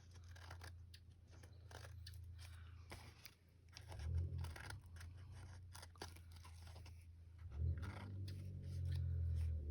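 Scissors trim the edge of an index card, giving a series of close crisp snips and crunchy paper cuts at an uneven pace, with no talking.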